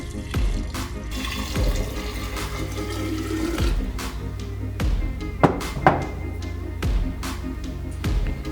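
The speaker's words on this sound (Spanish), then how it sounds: "vamos a cubrir las lentejas en por lo menos 2 tazas de agua" Water pours from a tap into a glass jar of lentils, a steady splashing stream broken by a few sharp clinks and knocks close by.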